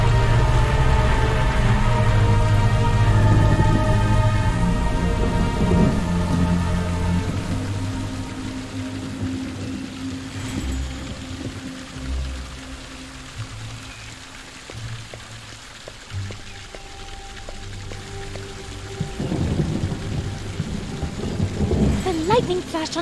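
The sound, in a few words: thunderstorm with rain and lightning in video game The Perils of Man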